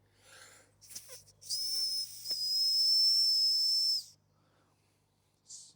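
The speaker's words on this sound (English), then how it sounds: "my mini whistle I made from willow yesterday" A small homemade willow whistle blown once in a long, high, airy tone lasting a few seconds, with brief breathy puffs before and after.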